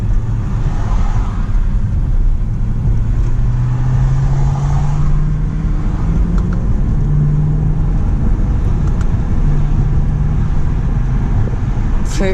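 A BMW M3 E93 with its naturally aspirated V8 revs out while driving, a steady engine drone rising slowly in pitch over road and cabin noise throughout.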